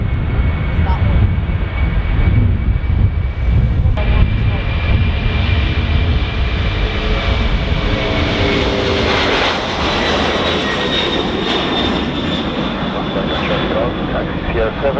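Loud, steady roar of a brand new Aer Lingus passenger jet at Dublin Airport, a continuous engine drone with a rising whine, heard under talking.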